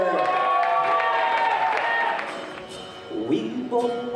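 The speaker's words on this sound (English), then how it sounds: "let's have a nice round of applause for Jeff Greeter." An audience applauds and cheers for Jeff, a steady wash of clapping and crowd noise that fades partway through, with scattered voices rising near the end.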